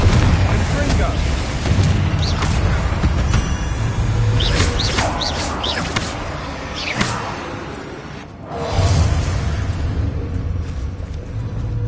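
Confringo blasting spells explode in the Hogwarts Legacy video game during a goblin mine assault, with heavy rumbling booms and sharp crackling bursts that continue throughout, broken by a short lull near the end.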